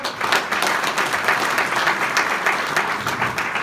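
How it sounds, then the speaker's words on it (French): Audience applause at a French-language group session, a dense, steady wash of many hands clapping that stays loud and even for a few seconds without a break. "On peut applaudir Célestin rapidement?"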